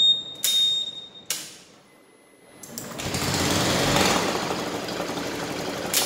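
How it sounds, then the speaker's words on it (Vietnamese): A Honda motorbike engine idles normally, preceded by a few sharp clicks and short electronic beeps, then settles into a steady, moderately loud mechanical hum close by. "Chiếc xe này đang nổ máy bình thường đây."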